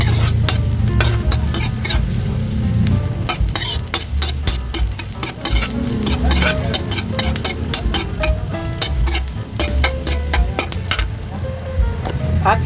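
Garlic and onion sauté in hot oil in a pan, a steady close sizzle with frequent clicks and scrapes of a utensil stirring throughout, no voices.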